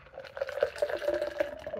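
O'Hara's Nitro Irish Red beer, 4.3%, pours from a can into a glass with a soft, steady gurgling splash and bubbling, close and fairly quiet, with no talking.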